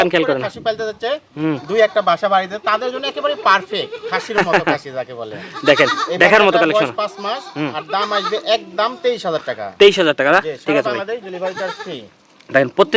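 Totapuri, Beetal and Haryana goats in a farm pen bleat repeatedly at close range, their wavering cries overlapping with someone talking almost continuously.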